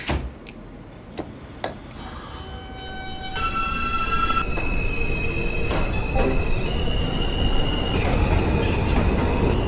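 An R160A subway train on the R line running from Bay Ridge toward Jamaica in the OpenBVE simulator, with a loud rolling rumble, a few sharp clicks early, then rising motor whine tones and wheel squeal as it gathers speed.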